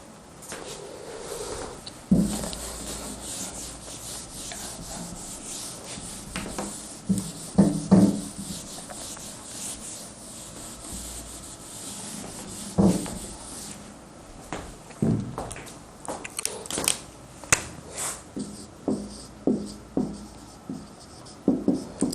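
Writing on a board during a tense lesson, repeated scratchy strokes and taps of the writing tool, sparse at first then coming in quick rhythmic clusters, close and clear with no talk.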